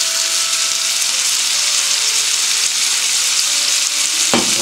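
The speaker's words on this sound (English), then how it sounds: "Fry the cashew nuts." Cashew nuts frying in hot oil in a pan give a steady, loud, hissing sizzle that runs throughout, with a brief clatter near the end and no talk.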